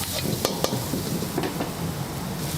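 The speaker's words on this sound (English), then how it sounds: "the tempering of those spices in the oil, the saute" Spices temper and sauté in hot oil in a wok at a Sri Lankan seafood cook-up, with a constant close sizzle and several sharp clinks of a utensil against the pan.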